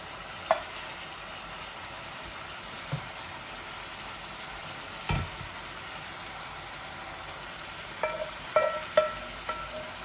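Hilsa fish frying in a pan with teasel gourd curry gives a soft, continuous sizzle, broken by a few light clinks and knocks from stirring, mostly toward the end.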